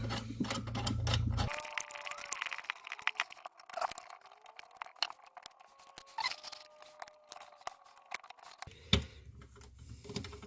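A kitchen faucet hose fitting being unscrewed under a sink, with scraping and squeaking metal-on-metal turns in a series of short, uneven bursts close by, after a brief stretch of steady running water at the start.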